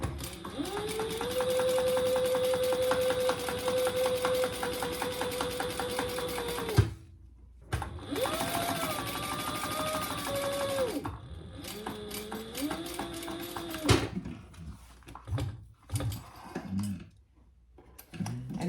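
A sewing machine topstitches an eighth-inch line along a wristlet flap, running in steady whirring bursts with brief stops between runs and a stuttering, uneven final stretch, close and alone.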